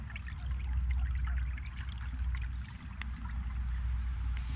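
Backed-up yard water drains through a newly installed culvert, a steady, moderately loud trickling and pouring flow that continues without pause, with no talking.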